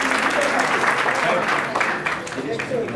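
Audience clapping at a library inauguration ceremony, a broad burst of applause that gradually thins out, with a voice speaking over it toward the end.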